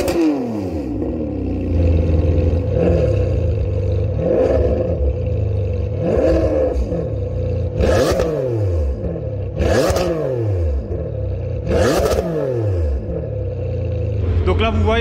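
A Ferrari 599 GTB fitted with an X-pipe exhaust revs hard again and again, each loud blip rising and falling in a steady rhythm over a constant idle rumble, close to the car.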